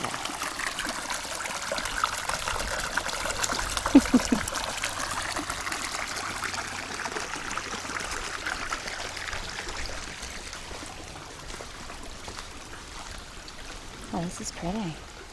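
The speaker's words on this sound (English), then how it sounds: "Noisy little waterfall." A small waterfall on a forest trail in Pennsylvania keeps up a steady trickling, splashing wash throughout, heard from nearby with occasional footsteps and a brief voice toward the end.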